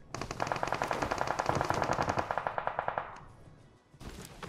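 Rapid automatic gunfire in the mobile game PUBG Mobile, a long burst of evenly spaced sharp shots lasting several seconds, then a short pause and one more shot at the end, with no talk.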